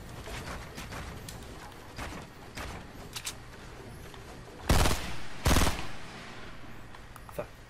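Gunfire in the game Fortnite: scattered shots crack through background game noise, with two louder, heavier bursts near the end.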